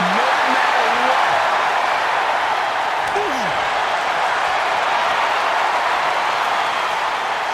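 Arena crowd in the WWE 2K25 wrestling video game, a steady wall of cheering and roaring noise sustained throughout at a loud, even level with no break.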